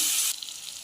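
Chili, pumpkin and five-spice seeds hit hot fish oil in a pan for a loud, hissing sizzle that cuts off sharply partway through, leaving a fainter crackle.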